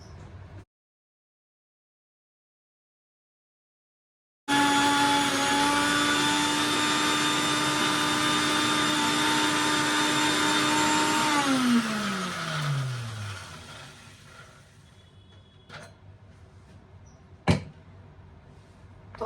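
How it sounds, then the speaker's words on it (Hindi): A Sujata mixer grinder grinding ingredients in a home kitchen: after a short silence, a loud steady whining motor hum runs for several seconds, then winds down, followed by a couple of sharp knocks. "ये मेरी सुजाता की मिक्सी है, तो चलिए फटाफट से पहले इसको कर लेते हैं ग्राइंड"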